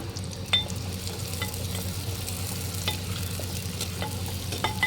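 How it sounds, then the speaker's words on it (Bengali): Whole onions and garlic fry in hot mustard oil with a steady crackling sizzle and occasional stirring scrapes, close and continuous, with no talking. "আর এর মধ্যে আমি গোটা পেঁয়াজ আর রসুন ওটাও দিয়ে দেবো একসাথে"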